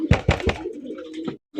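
A fancy Lakkha pigeon coos close by, three deep pulsing coos followed by a drawn-out low murmur and a final short note.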